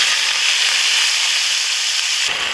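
Taro leaves sizzling in hot oil in a wok, a loud steady hiss that runs evenly for a couple of seconds, then cuts off abruptly near the end.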